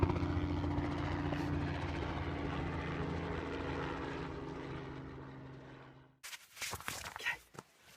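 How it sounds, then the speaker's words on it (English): A helicopter passing over a hillside in the Lake District, a loud droning rotor and engine roar that slowly fades as it moves away, then cuts to quieter rustling and nearby movement. "now there's a bloody helicopter"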